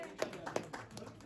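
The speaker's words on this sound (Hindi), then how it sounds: "मैं चाहूंगा मंच पे एक जोरदार ताली बजाने के लिए" A few sharp hand claps ring out on stage at a birthday celebration event, two distinct quick claps standing out over a faint, murmuring room background.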